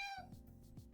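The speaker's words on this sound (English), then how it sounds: "Oh, cat." A cat gives one short meow that falls in pitch, followed by soft shuffling noise, close by and quiet with no talking.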